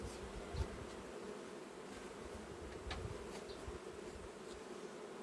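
Bees swarm around hives across an apiary, a steady, dense buzzing drone that fills the scene without pause, with occasional louder insects passing close by.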